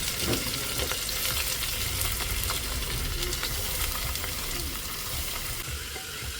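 Two long-sliced onions frying in a pan for beef curry, giving a dense, steady hiss and crackle that stays loud and close throughout, with occasional faint stirring.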